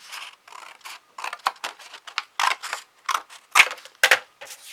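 Scissors cutting through a cardboard box, a rapid series of close, crisp snips and crunches in uneven bursts, with no talking.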